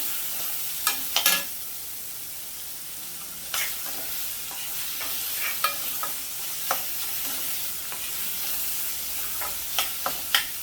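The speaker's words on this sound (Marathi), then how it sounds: "कांदा कांदा चांगला एकदम असा मऊ होईपर्यंत शिजवून घ्यायचा आहे" Chopped onion sizzling in a pan for mushroom masala, a soft steady fry broken by scattered sharp scraping and clinking of a spatula being stirred through the pan.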